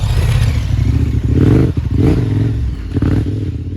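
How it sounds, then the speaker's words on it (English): A 230-kilogram KTM 1290 Super Adventure motorcycle engine rumbling and revving at low speed, with clattering and scraping as it works over a rough single track. "this is not an enduro motorcycle, this is a 230 kilogram motorcycle"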